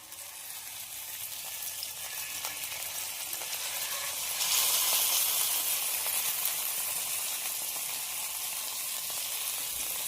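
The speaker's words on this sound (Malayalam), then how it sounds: "ഒരു സൈഡ് 5 മിനിറ്റ് നേരം ഫ്രൈ ചെയ്തിട്ടുണ്ട്. ഇനി നമുക്ക് മറിച്ച് ഇട്ട് കൊടുക്കാം." Fish sizzles steadily in hot oil in a pan, a dense continuous frying hiss that swells louder midway as the pieces are turned, with no voices.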